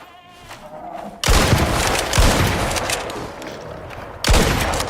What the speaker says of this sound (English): Dual shotguns are definitely the way to go.